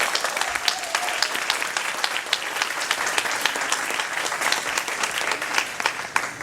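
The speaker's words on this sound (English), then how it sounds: "give them another big round of applause" Sustained applause from an audience honouring a competition team at a math event, dense and steady clapping filling the room without letup, with no talk over it.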